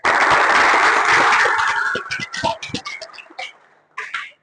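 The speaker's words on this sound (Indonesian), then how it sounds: "Tepuk tangan semuanya." An audience of students at a school gathering breaks into loud applause that fades into scattered individual claps, with a short final burst near the end.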